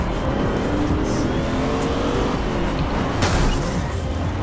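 A car engine revs and roars in the racing game Forza Horizon 2, a loud continuous drone with rising acceleration and a brief tire squeal, no talk.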